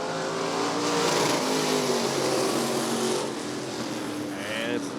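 Race cars roar away on the green flag at Rockford Speedway during the AAA Bracket Bash, a loud dense engine drone from a pack of cars that surges and then eases slightly, with an announcer's voice over it.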